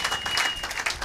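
A church congregation applauds in praise, a dense, steady burst of clapping from many hands that fills the room without any voices over it.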